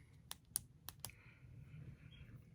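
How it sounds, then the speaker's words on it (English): A black plastic click pen with chrome trim and a rubber grip gives several sharp, close clicks in an irregular sequence, then quiet. "And it's a click pen."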